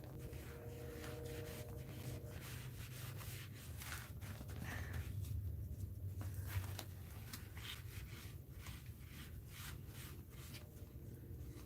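A fingernail scrapes back and forth over folded paper in a rapid, scratchy rubbing that stays close and fairly quiet, continuing unbroken for several seconds with no talking.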